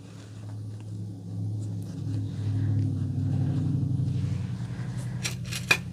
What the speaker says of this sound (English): And I'm sorry if y'all hear that traffic out there.